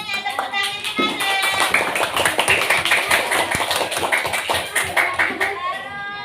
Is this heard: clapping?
yes